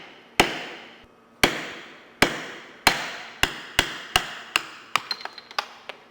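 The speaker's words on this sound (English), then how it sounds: "And then you take a plastic hammer and you need to" A plastic hammer strikes a bolt on a Husqvarna 701 motorcycle fairing in a garage, with sharp, close taps spaced about a second apart at first, then quickening into a rapid flurry of lighter hits at the end.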